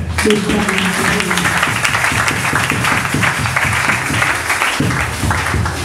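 Church congregation at a Sunday worship service applauding and acclaiming God, steady crowd clapping mixed with voices and cheering throughout, fairly loud and sustained.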